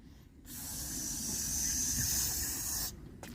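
Permatex spray adhesive hisses steadily from an aerosol can for about two and a half seconds, applied to sagging headliner fabric in a third-generation Firebird, with short quiet gaps before and after the burst.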